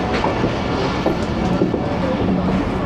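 The 13UP Awam Express pulls into Jhelum railway station in Pakistan just after crossing the Jhelum river bridge, a loud, steady, close rolling rumble with rhythmic clickety-clack of the carriages throughout.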